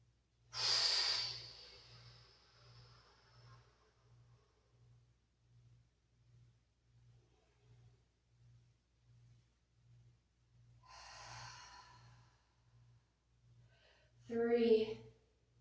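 Slow, deliberate breaths in and out during a stretching and hinge exercise, a strong inhale-exhale at the start, softer breaths later, with a steady low rhythmic hum pulsing underneath.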